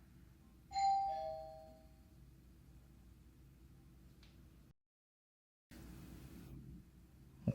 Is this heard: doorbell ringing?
yes